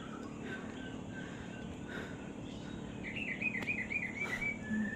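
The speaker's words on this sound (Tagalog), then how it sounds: "Sarap pakinggan yung huni ng ibon." Birds chirp and trill at a moderate distance in an outdoor setting, with a few short calls and then a longer, higher warbling song over a low background hum.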